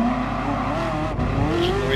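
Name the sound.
sports car engine in video game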